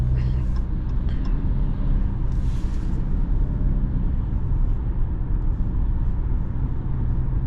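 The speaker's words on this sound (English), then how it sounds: "This car is very quiet. No loud road noise." Steady low rumble of a 2023 Jeep Cherokee Altitude 4X4 cabin on the move, a soft, even hum of engine and tires with no talking and little road roar.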